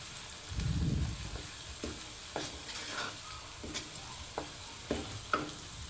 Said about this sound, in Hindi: इसे अच्छे से मिक्स कर लेंगे ताकि मिर्च अच्छे से मिक्स हो जाए